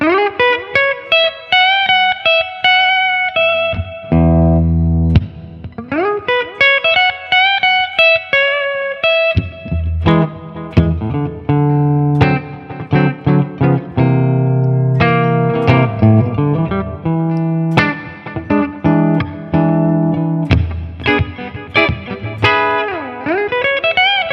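Heavily distorted electric guitar, a Gibson Les Paul '59 Reissue Murphy Lab on the bridge pickup, playing riffs and sustained chords with a bright, biting tone, loud and continuous with no talking.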